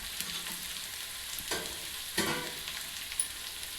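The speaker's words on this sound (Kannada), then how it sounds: "ಇದನ್ನು ಚೆನ್ನಾಗಿ ಫ್ರೈ ಮಾಡ್ಕೊಳ್ಬೇಕು." Ginger, garlic, green chili and onion frying in hot oil, a steady soft sizzle with a couple of brief stirring clatters, nearby and moderately quiet, no voices.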